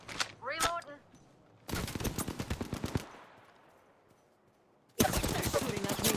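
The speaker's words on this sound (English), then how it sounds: "They're shooting at me." Rapid bursts of gunfire from the Apex Legends video game crackle in two dense volleys, separated by a quieter stretch with a fading tail. A short voice-like sound comes at the start.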